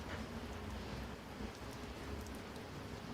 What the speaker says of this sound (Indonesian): Sini lagi hujan.